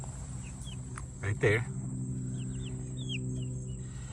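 Chickens of lighter and darker colours in a small starter coop make soft chirps and clucks scattered through a quiet scene, with a short voice speaking near the middle over a faint steady hum.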